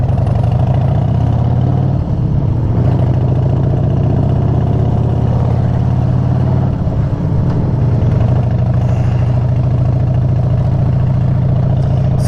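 Police motorcycles of the Paso Robles police motor unit idle steadily on a street corner, a loud, continuous low engine rumble with slight fluctuations and no pauses throughout.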